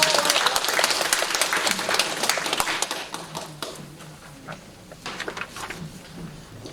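A church congregation at a women's mission society meeting applauds, brisk steady clapping from many hands that gradually thins and tapers off over several seconds.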